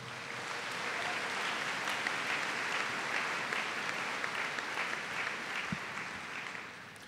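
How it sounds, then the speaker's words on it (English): A steady, full round of applause from a large audience at the Monona Grove High School 2015 commencement, clapping for the band and choir, holding evenly throughout and tapering slightly at the end. "Can we give them a round of applause, please?"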